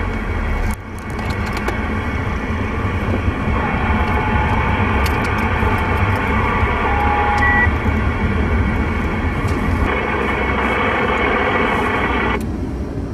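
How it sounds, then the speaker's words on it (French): Steady CB radio static hisses throughout, with short electronic roger-beep tones sounding faintly from a distant station before the carrier cuts off near the end. "Et la Roger Bip que j'entends dans le lointain"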